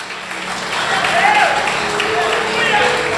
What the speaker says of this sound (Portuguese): Então aplauda com força ao Senhor.